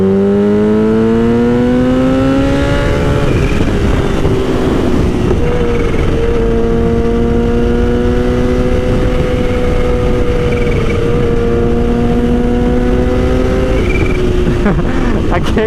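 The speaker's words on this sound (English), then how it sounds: "That quick shifter is real solid. It's real notchy." Engine revving and accelerating through quick-shifter gear changes, with rising pitch broken by sharp drops at each shift, then a long steady pull with a whistle, loud and close with wind noise.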